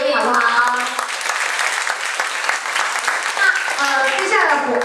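Audience applause fills a charity concert hall of Chinese traditional music crossover performances, a steady wash of clapping lasting several seconds with a few voices rising over it near the end.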